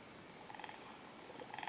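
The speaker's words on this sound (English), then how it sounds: "purring when I tap on him" Soft, faint purring of a cartoon cat in an app rumbles quietly in two short bursts, close and gentle with no talking.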